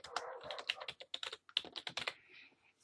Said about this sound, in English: we're going to type happy birthday